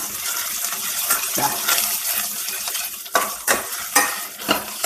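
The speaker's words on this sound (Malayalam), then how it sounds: "ഇഞ്ചി ഒന്ന് മൂത്തോട്ടെ." Crushed ginger frying in hot oil in a pan, a steady loud sizzle with sharp metallic clinks and scrapes of a spoon stirring at irregular moments, no voices.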